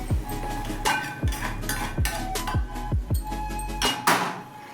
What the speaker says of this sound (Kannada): ಮಿಕ್ಸ್ ಮಾಡ್ಕೊತಾ ಇದ್ದೀನಿ. ಸಾಂಬಾರು ಹಾಕೋತಾ ಇದ್ದೀನಿ.